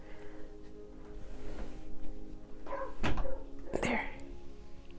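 A neighbor's dog barks twice, two sharp single barks a second apart, heard at a moderate distance over a quiet indoor hum.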